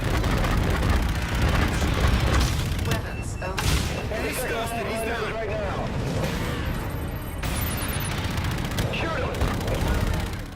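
Upper-tier weapons fire in the space shooter Infinite Warfare, set among asteroids: heavy booming blasts and dense bursts of gunfire crowd a loud, continuous battle mix, with voices in places.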